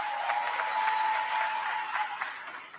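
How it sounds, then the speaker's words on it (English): Audience clapping for the faculty at a 2025 university commencement ceremony, a steady dense wash of many hands filling the hall at moderate level, with no voices over it. "Can I get a hand clap for the faculty?"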